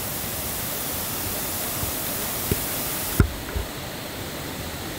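Steady, hissing rush of running water recorded on a Sony ECM-B1M microphone fills the clip at an even level, with a couple of faint knocks; the sound thins out abruptly near the end as rear and side sound is cut.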